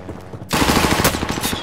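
Sustained machine gun fire erupts in a Call of Duty: Modern Warfare match, a loud, rapid stream of shots that starts abruptly after a brief quieter moment and keeps hammering to the end.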